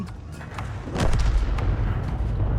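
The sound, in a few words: artillery gun firing its last round in a video game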